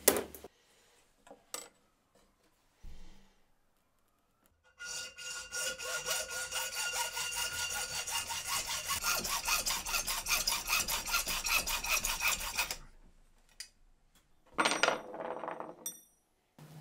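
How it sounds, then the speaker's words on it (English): A hacksaw cuts brass rods clamped in a vise: a few scattered knocks, then about eight seconds of quick, even back-and-forth rasping strokes, followed by a short burst of handling noise in a quiet room. "So I'm just going to get these in the vise and cut them with a hacksaw."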